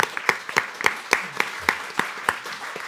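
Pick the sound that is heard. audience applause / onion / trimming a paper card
audience applause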